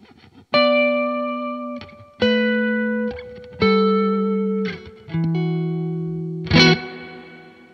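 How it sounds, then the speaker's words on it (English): Sustained electric guitar chords through a pitch-shifter pedal ring out one after another, each struck cleanly and left to decay, with a layered, harmonized tone and a brighter final strum. "and then we'll add in the pitchfork"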